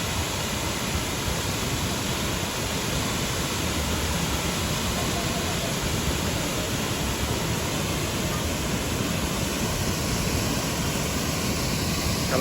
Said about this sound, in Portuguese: É uma bela queda d'água. Olha o volume.